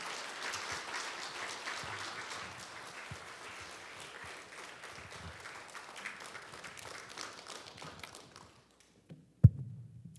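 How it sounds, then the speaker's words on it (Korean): A church congregation at a Sunday worship service claps to welcome a guest missionary speaker. The dense applause fades out after about eight seconds, and a single sharp knock or thump follows in near silence. "큰 박수로 맞이해 주시기 바랍니다"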